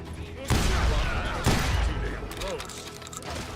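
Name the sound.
gunfire in the Call of Juarez Gunslinger video game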